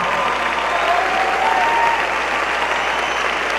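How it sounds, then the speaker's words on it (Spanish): Loud, dense audience applause fills an event hall as a 15-year-old violinist is welcomed, a continuous even roar of many hands with faint voices underneath. "un aplauso para Adrián"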